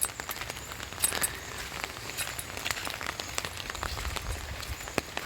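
Rain falls steadily outdoors with scattered sharp drips and patters over a low background rumble, moderately faint and continuous throughout.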